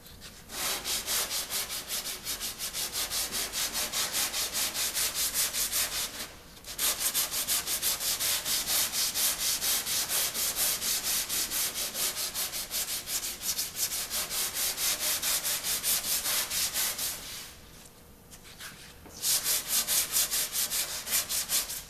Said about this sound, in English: I'm going to finish sanding it.